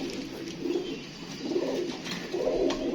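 Pet pigeons coo softly in a home loft where young birds are being raised, giving several low, rolling coos in repeated bursts, close by but fairly quiet against a faint background hiss.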